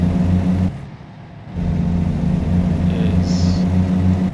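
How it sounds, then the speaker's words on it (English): Volvo truck engine in American Truck Simulator, a steady droning hum with a pulsing low throb that dips briefly then returns to a constant cruising rumble, heard alone. "I don't like this engine sound"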